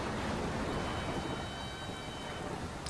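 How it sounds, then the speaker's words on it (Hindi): Heavy rain pouring down in a dense, loud hiss with deep thunder rumbling underneath, steady and close throughout, no voices. "बारिश पूरे जोर शोर से हो रही थी।"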